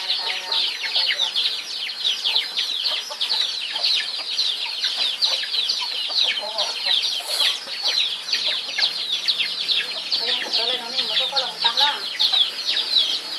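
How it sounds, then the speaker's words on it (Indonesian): Many chickens cluck and chirp in a dense, continuous chorus, close and fairly loud, with overlapping high calls throughout. "itu ayam yang sudah saya pelihara"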